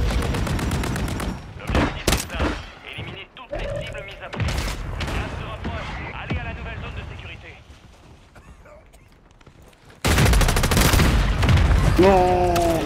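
Rapid bursts of gunfire in the video game Call of Duty, loud and close, with several clusters of shots and thuds scattered across, a loud dense barrage near the end, under French-speaking players talking over voice chat.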